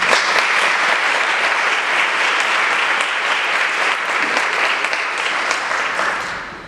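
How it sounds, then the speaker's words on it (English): Sustained applause from an audience at a Cap and Skull tapping ceremony for the class of 2018, a steady dense roar of many hands clapping throughout, tapering slightly at the end. "Let's give them a welcome and a round of applause as well."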